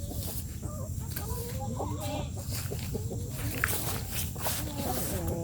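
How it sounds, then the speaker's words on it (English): Young Buff Orpington chickens, a dual-purpose breed, cluck and chatter steadily on a dry homestead, with soft footsteps and low voices mixed in under the flock. "So these are my young chickens. These are Buff Orpington, and they're dual purpose birds."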